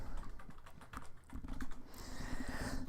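Quick, soft clicking keystrokes on an E5450 laptop keyboard come in irregular bursts, fairly faint and close, with no talking.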